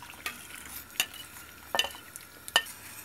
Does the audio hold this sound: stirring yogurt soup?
yes